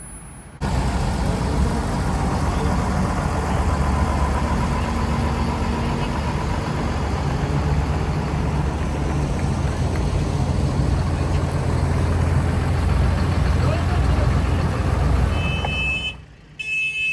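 Cars pulling in and idling at a Spanish farmers' protest, a steady low engine rumble filling the scene with continuous traffic noise, fairly loud and close, no talking.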